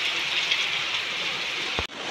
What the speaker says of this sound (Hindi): बहुत तेज़ बारिश होने लगी है, और बिल्कुल सुबह सुबह ही बारिश होने लगी है